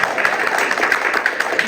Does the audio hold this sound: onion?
no